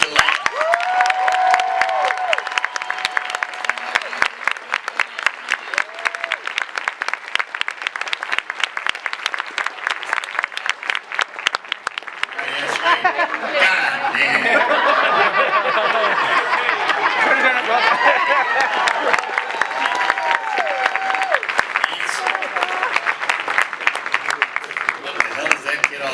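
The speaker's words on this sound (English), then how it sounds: "Big round of applause for the last." Loud, sustained audience applause fills a comic-con panel room featuring Bruce Campbell, with cheers, chatter and scattered laughter from a large crowd throughout.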